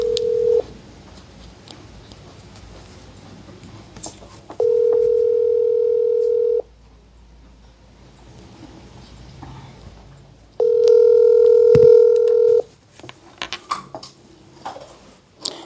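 Telephone dialing tones on a live radio call-in show: two long, loud steady tones a few seconds each, separated by quieter studio noise and faint clicks, with no talk over them.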